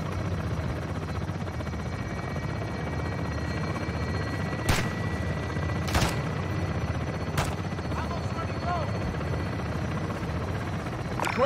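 A helicopter drones steadily through a gun run in a Modern Warfare 2 campaign mission, with a few sharp cracks of fire breaking over the continuous rotor rumble.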